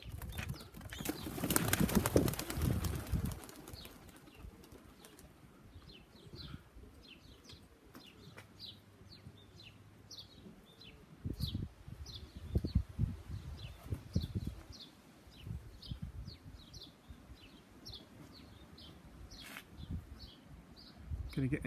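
Small birds chirp repeatedly in the background, brief high calls scattered throughout, with a loud rustling burst near the start and a person talking intermittently.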